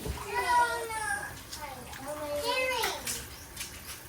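Water running into a backyard pool, a soft steady wash beneath children's voices and chatter nearby, with the water sound faint and continuous throughout.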